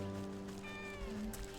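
A cat meows in the video game Wytchwood, a single drawn-out tonal meow heard faintly over a steady, humming game background with no talking.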